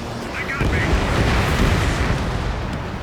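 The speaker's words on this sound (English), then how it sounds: "Missile launched." A missile strike and explosion in the jet combat game Ace Combat 7: a loud, sustained roaring blast with dense low rumble that holds steady for about three seconds.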